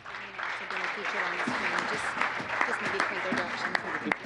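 An awards-ceremony audience gives a round of applause, dense clapping lasting several seconds with scattered louder claps and cheering voices mixed in.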